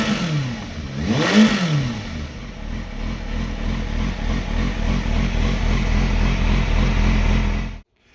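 A Kawasaki motorcycle engine idling close by with a suspected timing chain tensioner fault, a steady low throb with a rapid rattling clatter throughout after a brief rev near the start, cutting off abruptly at the end.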